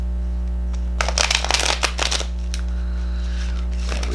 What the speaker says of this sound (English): I will just give it one more shuffle.